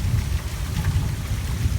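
Heavy rain falling on a lawn, a dense, steady outdoor downpour with a loud, low rumbling wash, uninterrupted and with no voices.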